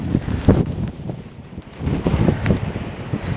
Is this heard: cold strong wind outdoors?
yes